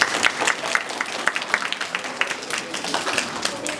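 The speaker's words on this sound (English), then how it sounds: "So let's give them a round of applause." Applause from a school assembly audience of elementary children, a dense patter of many small hands clapping steadily for several seconds, fairly close and loud.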